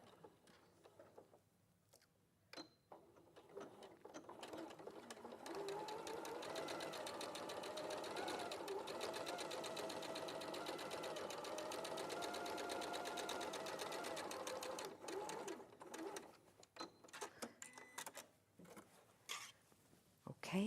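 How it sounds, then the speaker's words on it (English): Sewing machine edge stitching a pocket, running in one steady whirring burst of about ten seconds, bracketed by quiet handling clicks and fabric rustle, with no talking. "And then I'm just edge stitching or top stitching down there."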